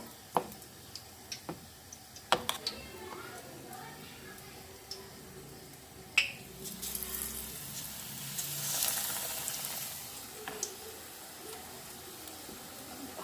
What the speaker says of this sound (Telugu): ఆయిల్లో వేసేటప్పుడు కింద నుండి వేయండి, పైన నుండి వేయద్దండి